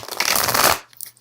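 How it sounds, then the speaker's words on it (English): A large tarot deck being shuffled: a brief, close burst of riffling card noise lasting under a second, followed by a few soft taps. "They're a little bit on the big side, but they're still really nice to shuffle with. They shuffle really nicely."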